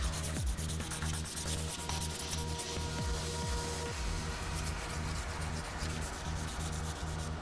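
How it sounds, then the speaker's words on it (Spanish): A nail file rubs steadily over a fingernail surface in a wrapping filing motion, producing continuous close, loud scratchy strokes throughout with no talking. "finalizamos sellando cutícula y pasando nuestra lima por toda la superficie con un limado envolvente."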